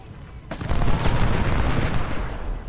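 Massed musket gunfire in the Civil War strategy game Ultimate General: Civil War, a loud, dense crackling volley that rolls continuously with a sharp onset and no voices.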